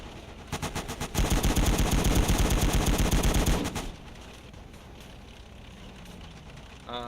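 Sustained, rapid machine gun fire from the war game Gates of Hell: Ostfront, loud and dense for about three seconds after a few shorter bursts, then dropping to a low battlefield rumble.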